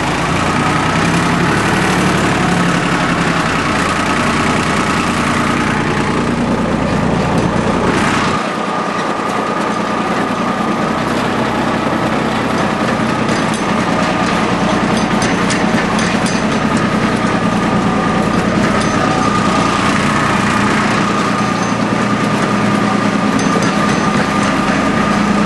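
A Yanmar YM1401D diesel four-wheel-drive tractor moving in first gear, high range: a loud, steady engine drone held close and constant throughout, with one brief dip in the low rumble partway through.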